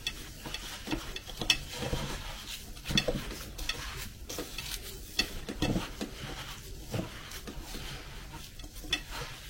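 Cake batter flavoured with orange blossom water being stirred by hand in a bowl, soft repeated scraping and tapping strokes at a close, fairly quiet level, no talking.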